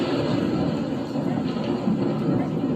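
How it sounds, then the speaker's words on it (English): Recorded cloudburst: a dense, continuous roar of torrential rain that stays steady and loud throughout the short excerpt. "This was a sound of cloudburst."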